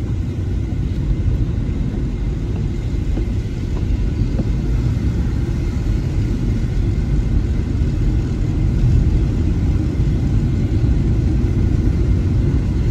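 A car drives along a snowy road in Armenia, giving a continuous deep rumble of engine and tire noise, heard steadily from inside with no talking.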